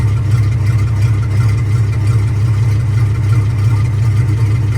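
David Brown tractor engine running steadily with a large exhaust fitted, a close, loud, even diesel idle with a low throbbing rumble throughout.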